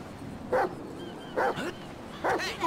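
Dog in GTA 5 barking three times at a steady pace, each bark short, loud and close, with no talk between them.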